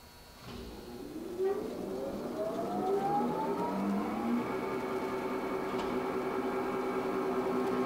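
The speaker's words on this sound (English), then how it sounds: "That's the spindle spinning." The spindle motor of a Blanchard surface grinder starts up with its guards removed, a whine that climbs steadily in pitch over a few seconds and then settles into a steady spinning hum. The sound is moderately loud and heard alone.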